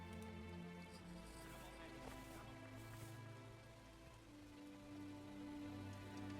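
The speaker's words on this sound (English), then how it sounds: "It's raining quite a lot" Steady rain falling in the village-building game Manor Lords, a soft continuous patter under a low droning game soundtrack, with no voices.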